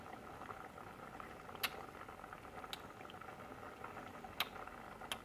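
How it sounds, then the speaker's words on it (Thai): A pot of clear Thai winter melon soup with boiled eggs bubbles at a soft rolling boil, with quiet continuous gurgling and a few sharper pops. "เดือดผู้วับผู้วับเลย"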